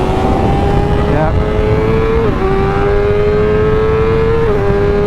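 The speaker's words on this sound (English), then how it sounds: "A couple of laps on an S1000RR." A 2023 BMW S1000RR sport motorcycle laps a race track with a loud, sustained engine note close to the rider, stepping down in pitch at a couple of gear changes over steady wind rush.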